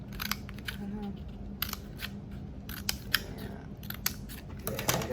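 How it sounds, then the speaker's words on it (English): Scissors snip through paper for a paper flower craft, a series of short crisp cuts in uneven rhythm, close and fairly quiet, while someone talks steadily over them. "cutting up to the line and stop, cut up to the line."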